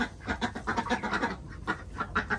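Repeated duck quacks, a busy run of nasal calls close by, with several birds seemingly calling over one another on a chicken farm.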